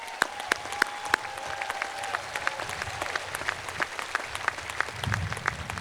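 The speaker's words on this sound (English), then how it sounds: "That deserves a round of applause." A graduation ceremony audience applauds steadily for several seconds, a fairly sparse patter of distinct claps with a few sharper ones standing out.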